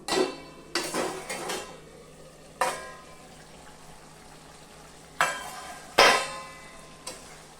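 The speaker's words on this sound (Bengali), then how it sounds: "আমি ঢাকনাটা উঠিয়ে দিব।" A lid comes off a pot of mutton bhuna with several sharp metallic clanks and clatters, spaced apart over a low, quiet sizzle, close up and with no talking.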